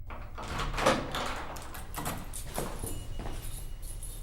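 A door opening sound effect creaks and thuds through a muffled, low rumble, with a few scraping, knocking bursts spread over several seconds at moderate loudness.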